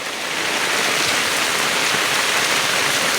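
Heavy rain pours steadily at Bhogoi Bazar in Nather Petua Union, Monoharganj, a dense, even hiss of drops close around with no voices.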